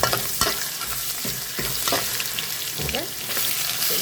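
Whole spices, ginger and garlic fry in oil in a pan for chicken angara, a steady close sizzle broken by several sharp stirring scrapes and spoon knocks.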